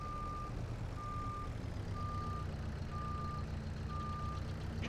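A tractor in the Farming Simulator 22 game gives a steady run of evenly spaced reversing beeps over a low engine drone, with no talk.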